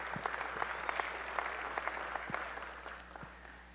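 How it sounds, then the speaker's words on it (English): An audience at an academic affairs kick-off meeting applauds a round for new staff, a modest spread of clapping heard from a distance that slowly thins out. "Let's give them a round of applause."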